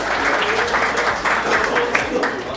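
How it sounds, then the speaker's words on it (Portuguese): An audience applauds at a Special Day event when a man is called up to the front, with brief, dense clapping from a crowd in a room. "Palmas para ele."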